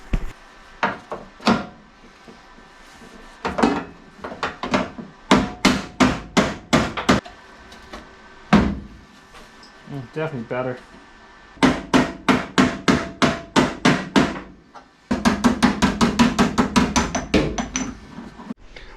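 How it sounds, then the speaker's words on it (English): Hammer and dolly beating a dent out of a steel door panel on an MGB GT during restoration, sharp metallic blows in rapid bursts of ringing strikes with short pauses, close and loud; a voice briefly speaks. "I'm going to get a hammer and dolly and try and"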